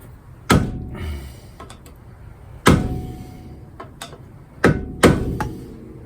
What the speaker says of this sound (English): So we just have to hit that with the BFH and the screwdriver